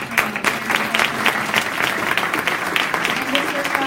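An indoor audience applauds warmly with dense, sustained clapping at a Black History celebration event, loud and steady throughout with no voices heard over it.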